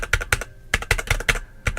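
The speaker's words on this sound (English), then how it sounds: "This is how I type in real life." A loud mechanical desktop keyboard with fairly clicky switches is typed on in quick, close bursts of keystrokes separated by short pauses, with no voices.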